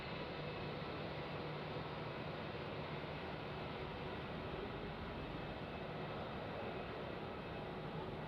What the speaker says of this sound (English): we're going to capture this Emirates Boeing 777-300ER arriving in from Singapore